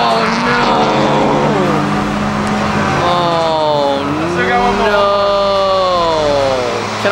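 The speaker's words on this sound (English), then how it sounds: "Oh, they just started the drifting!" Cars drifting at a Gridlife motorsport event, loud revving engines rising and falling in pitch with sustained whine, steady and dense throughout, with people talking nearby.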